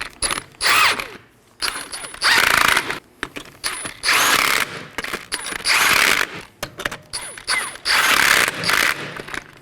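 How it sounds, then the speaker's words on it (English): A hand ratchet snugs wheel-area bolts on a 2018-2024 Chevrolet Equinox during a front outer tie rod replacement, giving repeated close, loud bursts of rapid clicking with short pauses between strokes. "I'm going to tighten these in a crisscross pattern."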